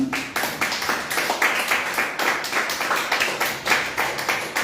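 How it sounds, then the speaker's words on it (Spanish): A church congregation claps together in a rhythmic offering of applause to the Lord, sharp, fairly close hand claps repeating in a fast, even beat through the whole stretch, with no talk over them. "¿Cuánto le damos una ofrenda de palmas al Señor, hermano?"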